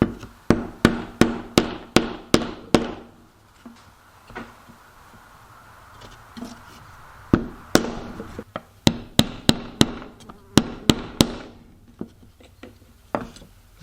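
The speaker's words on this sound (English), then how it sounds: "I don't know if I can hammer it up here" Sharp hammer strikes on a modern geometric wooden peacock wall art piece, setting blue dots into a feather's eye; quick close bursts of tapping with a quiet pause in the middle, then more irregular blows.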